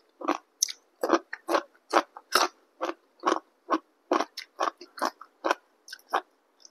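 Crunchy sweet home-grown peanuts are chewed up close, about twenty distinct crisp crunching bites in a quick, uneven rhythm over silence.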